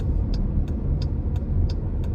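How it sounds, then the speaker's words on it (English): A car passes on a road heard from inside a vehicle, a loud, steady low rumble with faint regular ticking over the top throughout. "this car pass"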